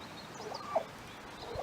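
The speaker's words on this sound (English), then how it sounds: "Turkeys make a lot of vocalizations" A male turkey kept with five hens in a chicken yard makes soft, short vocal calls toward a hen, faint and distant over a quiet outdoor background.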